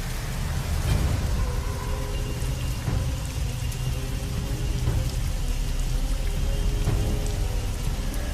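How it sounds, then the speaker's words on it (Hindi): Heavy rain pours down in a dense, unbroken roar of drops, loud and close throughout, with no voices over it. "बारिश अब और भी तेज होती जा रही थी।"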